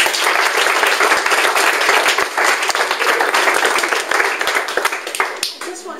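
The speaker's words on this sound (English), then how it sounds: "So can we give them a clap?" An audience claps together after a presenter's request at a talk, a steady wash of many hands lasting throughout, fairly close and loud, with no voices over it.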